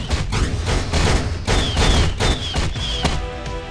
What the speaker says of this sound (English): Rocket just starts shooting like crazy